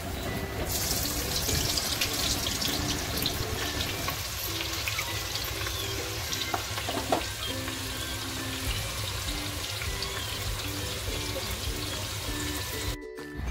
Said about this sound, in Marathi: तेल चांगलं तापल्याच्या नंतर आपल्याला कांदा टाकायचा त्याच्यात.